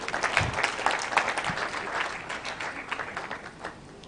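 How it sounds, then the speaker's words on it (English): An audience at a Supreme Court conference claps for an award recipient, a moderate round of applause with sharp individual claps standing out, fading slightly toward the end. "a round of applause"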